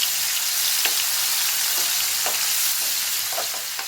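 Prawns frying in oil over a medium flame for a prawn roast, a loud, continuous crackling sizzle with occasional spatters, no voices.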